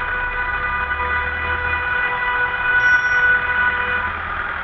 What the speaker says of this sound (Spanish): Juntaron algunos coches por detrás también tocando bocina